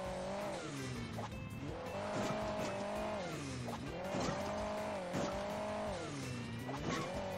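Engine of a car in the Hill Climb Racing 2 video game, droning and revving continuously with rising and falling pitch as the vehicle drives over hilly terrain, loud and close with no talk over it.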